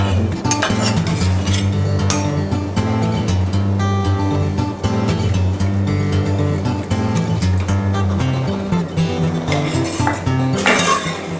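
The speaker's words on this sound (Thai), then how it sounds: "แล้วมาคนนิดนึง" Braised pork tendon in thickened red sauce being stirred in a pot, with continuous clinking and scraping of a utensil against the metal, loud and close throughout, no voices.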